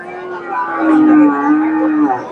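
A local dairy cow at the Chandaikona cattle market gives one long, loud, close moo lasting a couple of seconds, with no voices over it.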